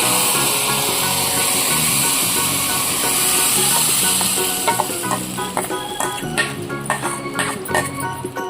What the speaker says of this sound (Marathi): तेल पण आपलं चांगलं गरम झालेलं आहे तर चला आपण फोडणी देऊया